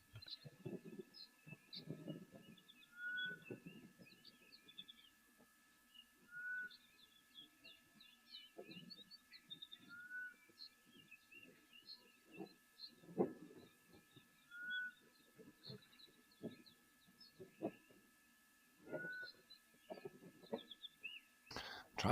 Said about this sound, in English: Trying to decide what bird this is that's calling.